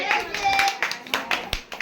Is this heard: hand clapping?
yes